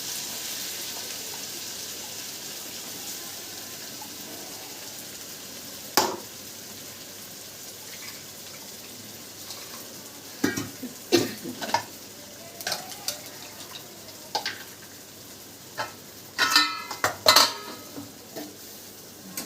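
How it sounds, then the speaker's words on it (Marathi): Eggplant and ground homemade masala fry in hot oil in a pan, giving a soft steady sizzle with scattered scrapes and clinks as the pan is stirred, more of them toward the end. "आता आपण टाकू वांगे तेलामध्ये. आपण हा वाटून घेतलेला मसाला टाकू आता."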